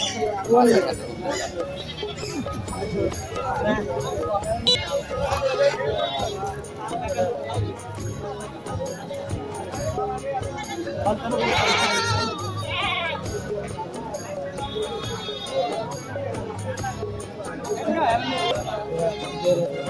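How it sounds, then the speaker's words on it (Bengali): Goats and young goat kids, including red crossbred kids, bleat repeatedly at a busy village goat market in Ullapara, Sirajganj, their calls rising over a steady babble of crowd chatter and nearby talk. "বন্ধুরা, এখানে তিনটি লাল রঙের সুন্দর ছাগলের বাচ্চা দেখা যাচ্ছে।"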